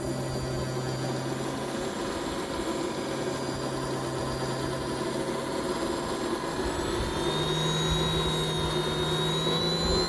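A gas turbine jet engine for an RC monster truck lights off and spins up, giving a steady loud whine with a rising high tone and a low rumble that builds slightly toward the end. No one speaks.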